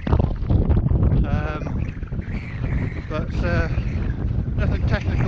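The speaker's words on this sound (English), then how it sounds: "Wind's gotten up, temperature's dropped massively now" Wind gusts on a Welsh mountain, Moel Hebog, blowing steadily and loudly across the microphone in a continuous rushing roar, with a voice speaking over it.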